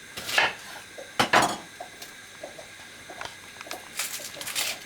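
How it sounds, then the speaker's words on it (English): A knife chops onions on a board in a home kitchen while curry is being made, giving a few sharp, close clacks separated by softer scattered taps. "He's chopping up the onions."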